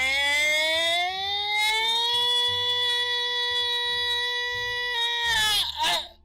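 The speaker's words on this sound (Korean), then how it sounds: "사이렌이 울림과 동시에 각 포반에 무전이 미친듯이 울리기 시작했습니다" A warning siren wails steadily and loudly for several seconds, its pitch rising slightly at the start and holding, with low thumps and bursts of noise underneath and a rough break near the end.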